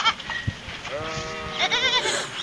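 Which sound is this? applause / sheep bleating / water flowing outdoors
sheep bleating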